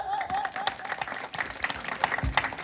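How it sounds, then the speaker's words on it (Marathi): Clapping from people at an engagement-ceremony scene in a Marathi comedy skit, with a brief burst of applause mixed with voices and crowd noise over a couple of seconds. "टाळ्या वाजवा."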